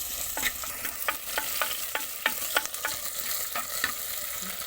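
Onions and green chillies sauté in a pan for village-style fish curry. A steady sizzle runs throughout, broken by repeated scraping stirs of a spoon against the pan, close and moderately loud, with no talking.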